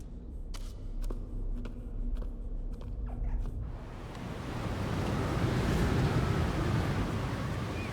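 Wind in the video game Jusant, a steady broadband rush that swells noticeably about halfway through and stays loud and full, like gusts sweeping past, with no talking.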